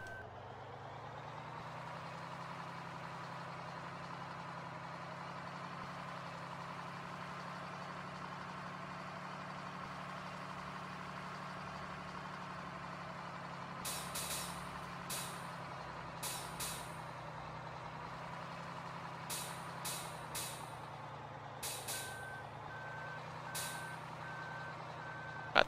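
A Farming Simulator 2013 truck drives with a steady engine drone, then bursts of loud air-brake hiss and a run of evenly spaced reversing beeps join in over the last ten seconds.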